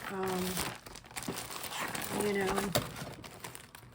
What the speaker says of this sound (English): let's just go ahead and get started and unwrap these items